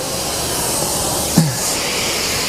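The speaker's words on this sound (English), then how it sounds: "So let's grab this vacuum." A car-detailing vacuum at a live detailing event runs as a steady, loud broadband whoosh that holds for the whole stretch, with one brief bump partway through.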